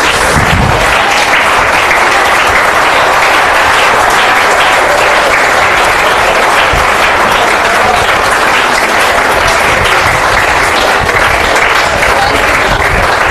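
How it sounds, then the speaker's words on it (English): Loud, dense applause from a school audience for the judges of a spell bee competition, continuous and unbroken throughout. "Let's have a big round of applause for them."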